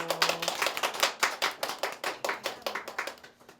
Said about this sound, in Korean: 모두 박수로 환영해주세요